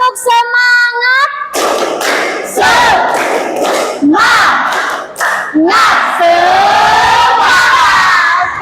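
A group of schoolchildren performs a rhythmic spirit clap chant in a classroom, with bursts of loud shouting voices and claps in quick patterned rounds, close and energetic.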